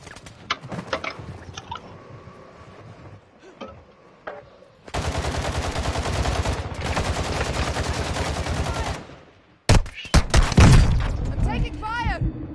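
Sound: gunfire in video game Warzone

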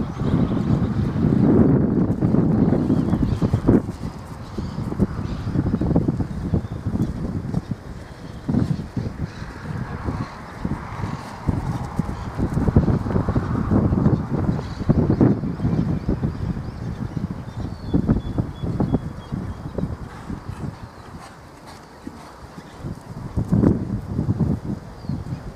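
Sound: horse hooves galloping

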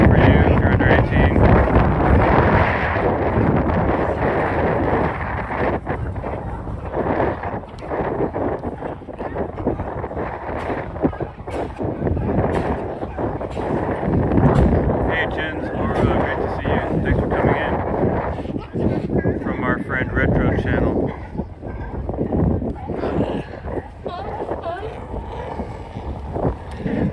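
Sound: strong wind by the San Francisco waterfront

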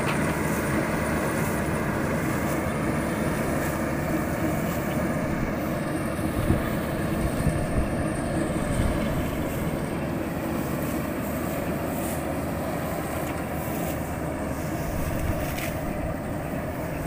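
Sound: rice harvesting machine working in swampy field

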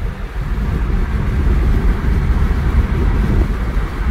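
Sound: wind

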